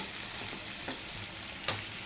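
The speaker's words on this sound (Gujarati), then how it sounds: "આને આપણે મિક્સ કરી નાખવાનું છે" Onions and tomato sizzle quietly in a pan as a spoon stirs them for a brinjal dish, a soft continuous frying hiss broken by two brief scraping stirs.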